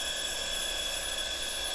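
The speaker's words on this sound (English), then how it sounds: "There's beeping and ringing and dinging and goes on here every single hour." Hourly chime from a clock, a steady high electronic beeping ring holding one continuous tone, fairly loud and alone with no talk.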